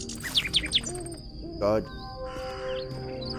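Birds calling in the game Amnesia: Enigma, loud bright chirps and a few sweeping whistled calls in quick bursts, with a short spoken exclamation over them.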